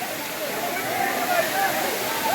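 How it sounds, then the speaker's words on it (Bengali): Water pours down Khoiyachora waterfall in Sitakunda, a steady broad rushing roar heard up close without a break, with a voice talking over it. "এই যে এগুলি সব বাইয়া পানি পড়ে"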